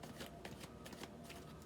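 Oracle cards being shuffled outdoors in the cold, a quiet, steady riffling with soft rapid flicks and taps throughout, close and alone with no talk.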